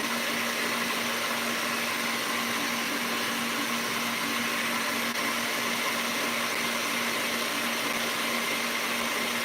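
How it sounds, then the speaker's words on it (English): An electric stand mixer whips vegan marshmallow with its motor running loud and strained, a constant high whine with a steady hum, unbroken and close, with no voices. "It's really loud, and also it smells like the motor of my mixer is gonna burn out"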